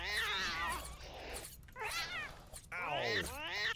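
Cats in a video game meow and caterwaul in several drawn-out, rising and falling cries, loud and close, with short gaps between them.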